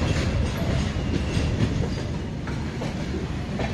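A goods train heading toward Goa rumbles past on the Londa–Belagavi line, heard from a moving passenger train as a steady, dense rolling roar with faint rhythmic wheel clatter throughout.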